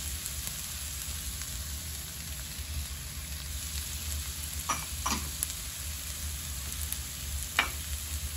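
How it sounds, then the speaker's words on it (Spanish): Chopped bell pepper and onion frying in leftover pork fat from ribs and bacon, a steady low sizzle with a few brief clicks and stirring scrapes. "estar echando a dorar en la misma manteca que sobró, en la misma mantequita que soltó la carne y el tocino"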